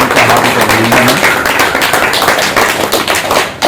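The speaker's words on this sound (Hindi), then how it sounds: "तालियां बजाएं इनका हार्दिक अभिनंदन है" An audience claps for a 90-year-old yoga instructor at a yoga session, a dense burst of applause that starts at full strength and carries on steadily before fading at the end. A voice speaks briefly at the start.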